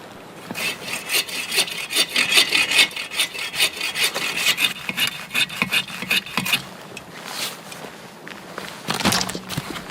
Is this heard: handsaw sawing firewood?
yes